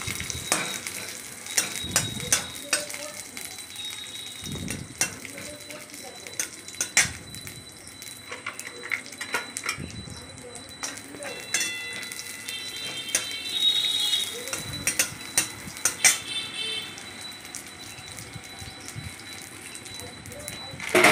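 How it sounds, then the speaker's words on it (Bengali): Cashews and raisins are stirred while frying in ghee, with a continuous crackling sizzle broken by frequent sharp clinks and scrapes of a spoon on the pan. "কাজু কিশমিশটা একটু নাড়াচাড়া করে নিলাম, ভেজে নিচ্ছি ঘিয়ে।"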